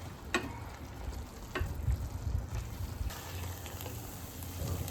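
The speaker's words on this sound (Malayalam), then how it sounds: "ഇതുപോലെ ഇളക്കി റോസ്റ്റ് ചെയ്തെടുത്താൽ മതി" Cauliflower with black pepper being stir-roasted uncovered in a pan for a spicy pepper roast; a faint, steady sizzle with a few light stirring clicks and scrapes, quiet and without talk.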